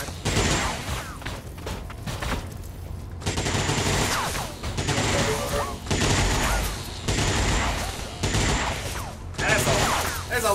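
Heavy gunfire in the video game XCOM 2: War of the Chosen, with repeated loud bursts and volleys of shots broken by brief lulls, dense and close throughout.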